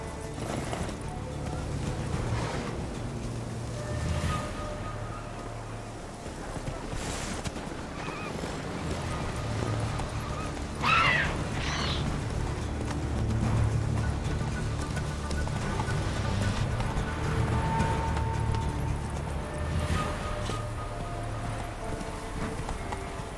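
Horse Roach from the game Witcher 3 moves at a steady clip, hooves clip-clopping through a rolling ambient bed of wind and water, with one brief brighter flurry partway through and no one talking.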